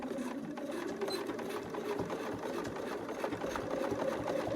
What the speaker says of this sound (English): And I am going to back stitch on this one.